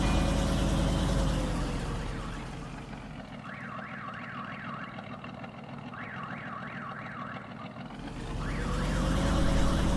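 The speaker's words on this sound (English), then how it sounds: "Is that supposed to be a car siren?" A warbling car alarm siren from the video game Farming Simulator 19 sounds in repeated rising-falling bursts over a steady low engine rumble, with no talking.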